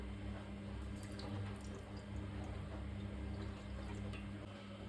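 Water poured into a pot of butter and sugar while making a simple pastry dough, a faint, steady trickle and splash against a soft background hiss.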